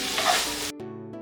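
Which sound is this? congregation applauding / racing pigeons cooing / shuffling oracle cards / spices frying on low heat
spices frying on low heat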